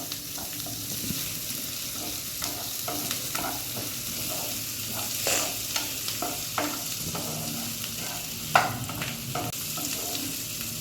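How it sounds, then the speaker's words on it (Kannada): Onions frying in a pan, a continuous close sizzle with scattered stirring taps and scrapes, steady throughout with one sharper knock near the end. "ಸ್ವಲ್ಪ ಈರುಳ್ಳಿ ಕೆಂಪಗಾಗಲಿ."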